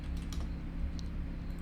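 Soft, rapid keystrokes on a computer keyboard, faint and close, over a steady low background hum.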